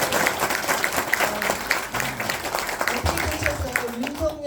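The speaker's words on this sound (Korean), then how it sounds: "다시 한번 박수 주십시오." Audience applause at a Korean political talk event with a Democratic Party lawmaker, a continuous crowd clapping with a voice talking over it the whole time.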